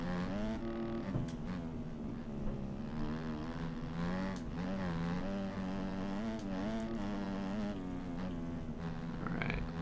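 Revving 250 motocross bike engine in MX Simulator or MX Bikes, a Yamaha or Honda, droning steadily with a buzzing, insect-like tone that rises and falls with throttle, close and continuous.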